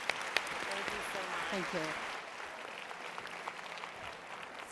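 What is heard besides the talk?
audience applause for the executive panel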